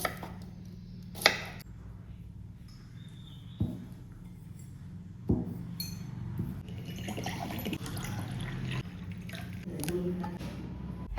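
Carrot and ginger are cut by hand for detox water, with a few sharp knife thuds on a board spaced out among softer wet handling and rustling, fairly quiet and close.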